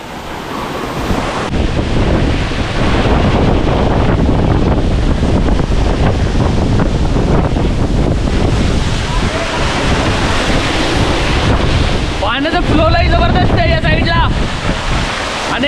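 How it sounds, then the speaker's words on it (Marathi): Vasundara waterfall in Bhandardara pours in a strong, steady roar of rushing water with gusty wind buffeting close by, loud and continuous throughout, with a faint voice briefly audible near the end. "आता पाण्याचा फ्लो लय जबरदस्त आहे"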